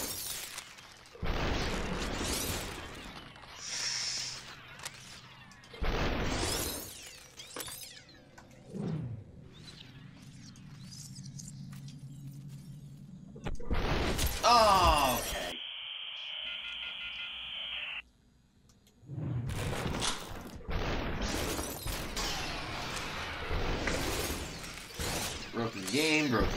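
Glass shattering in the first-person shooter game SUPERHOT, with several sharp crashes between stretches of electronic tones and buzzing, and someone talking over parts of it.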